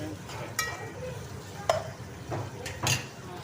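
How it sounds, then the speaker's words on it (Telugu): Ginger garlic paste fries in a pan with a soft steady sizzle, broken by a few sharp scrapes and clinks of a spoon stirring against the metal. "ఇది అల్లం వెల్లుల్లి పేస్ట్ వేసేస్తున్నా ఫ్రెండ్స్. చూడండి ఇది పచ్చి వాసన పోయేంతవరకు ఇలా ఫ్రై చేసుకోవాలన్నమాట"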